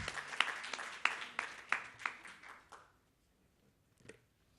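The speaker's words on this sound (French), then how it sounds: "je vous demande d'applaudir Monsieur Med Morea Seleman, qui est comorien" Audience at a French-language debate event clapping in a scattered, fairly close burst of individual claps that fades out after about three seconds, with one last clap near the end.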